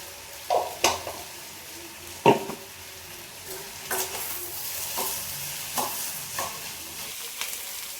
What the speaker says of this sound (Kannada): ನೀಟಾಗಿ ಹಸಿ ಸ್ಮೆಲ್ ಹೋಗೋವರೆಗೂ ಹುರ್ಕೋಬೇಕು ಇದೆಲ್ಲ ಮಸಾಲೆನ